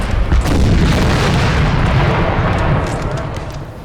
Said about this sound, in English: So that looked like a barrage round.